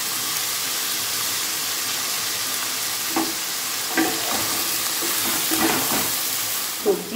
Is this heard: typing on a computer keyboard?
no